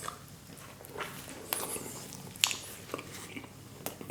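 Someone bites into naan bread dipped in a spicy vegetable and lentil casserole sauce, with soft, close chewing and a few small crunchy bites at irregular intervals, quiet and without talk.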